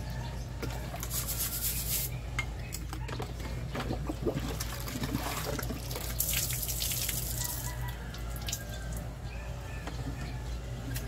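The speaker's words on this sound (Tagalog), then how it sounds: "Linisan ko to yung shell." Water runs steadily from a tap into a sink while a shell is washed by hand. Continuous splashing sounds alongside rubbing and clinking, and the spray rises and falls as the shell moves through the stream.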